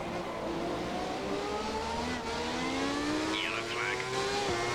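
A V12 Formula 1 car engine from the F1 2017 racing game drones steadily with rising harmonic pitch, a continuous moderately loud whine behind faint background talk.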